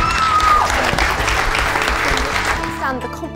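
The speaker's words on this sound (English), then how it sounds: "So please give her a huge round of applause." Loud, dense audience applause at a FameLab science talk event fills the space evenly, then thins out near the end.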